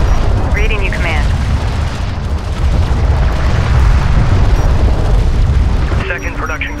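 Battle in the strategy game Homeworld: Deserts of Kharak, with heavy rumbling explosions and gunfire, loud and continuous, under brief radio-style voices.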